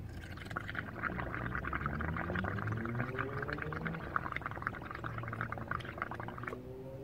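A straw blows bubbles into a blue dish liquid solution, making a continuous close, low burbling gurgle that runs steadily for several seconds, with small pops and bubbly crackles scattered throughout.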